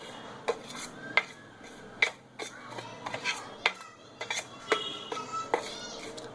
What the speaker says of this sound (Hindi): अच्छी तरह हमें इसे मिक्स करना है